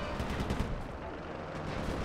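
Rapid bursts of gunfire from a Sly 3 video game minigame, dense and continuous crackling shots with no pauses, loud and close.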